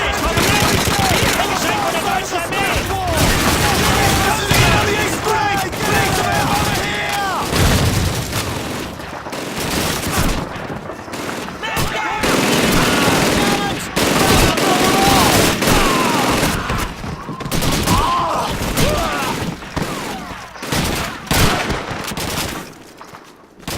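Sustained machine gun and rifle fire with booming blasts in the World War II shooter game Call of Duty 2, loud and nearly nonstop, with someone talking over the battle.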